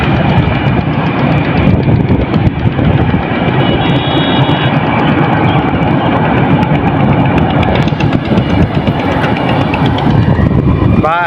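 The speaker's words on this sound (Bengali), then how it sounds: "এই যে আমাদের ট্রেন চলে আসছে" A train passes close by with a loud, continuous rumble and rattle of rolling wagons, a heavy engine drone underneath and a squealing whine near the end.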